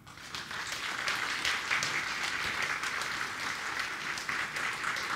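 An audience at a Polish award ceremony applauds a prize-winning author, dense steady clapping from many people sustained for several seconds in a hall.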